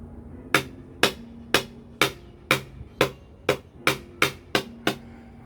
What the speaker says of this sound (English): I know that this one needs to be hammered down a bit, because I can see from where it's sitting. So I'm just gonna hammer it down.